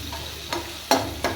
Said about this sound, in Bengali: এবার আমি এতে কাজু মিক্স করে রেখেছি, আমি কাজু বাটাটা এর মধ্যে আমি দিয়ে দেবো।